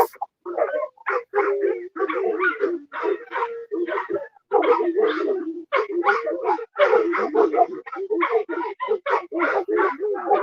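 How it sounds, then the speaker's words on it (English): Several dogs, mostly Breton shepherd dogs, bark and yip in rapid overlapping bursts outdoors at night, loud and continuous throughout. "I'm just hearing the dogs bark."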